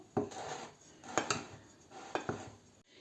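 A spoon stirs chocolate gingerbread dough mixture in a bowl, scraping and clinking against the sides in three distinct rounds of strokes, close and fairly quiet with no talking.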